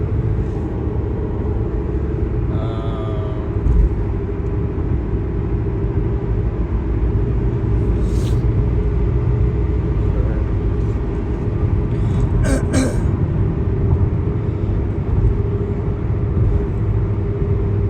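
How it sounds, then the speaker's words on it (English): Steady low road rumble and engine drone fill the cabin of a moving car, continuous and loud throughout with no talking. "This is the problem with the sounds of driving."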